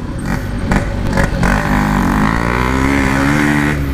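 A Yamaha RX King motorcycle engine revs up and holds a loud, steady, buzzing drone close by, with a few sharp rasps at the start before it settles into a sustained high rev.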